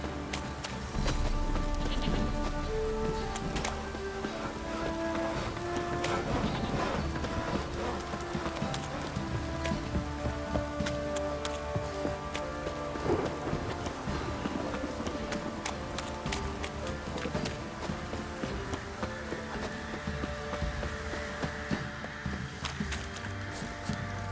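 Heavy downpour drums steadily on the ground in The Witcher 3 video game, a dense continuous hiss with scattered sharp crackles and low rumbling underneath, sustained throughout with no voices.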